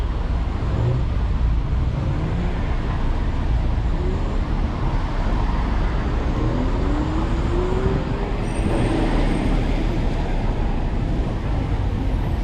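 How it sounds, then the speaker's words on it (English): Road traffic on a congested street, heard from inside a car, a continuous low engine and road rumble with passing vehicle tones throughout, and a voice talking briefly over it. "Man, this traffic."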